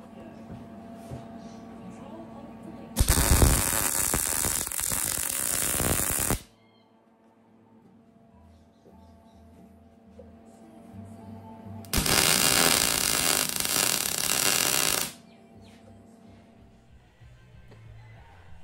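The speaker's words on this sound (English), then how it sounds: "You should have seen in the video I was just moving around, stitching them sort of 1 inch at a time" Two loud, crackling bursts of MIG stitch welding on a custom motorcycle build's CBR 125 frame, each lasting about three seconds, with quiet workshop pauses between and after them.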